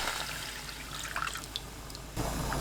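Water, 500 ml, poured into a pan of stir-fried broth anchovies, a steady close splashing stream with a few droplet plinks, then a fuller gush near the end.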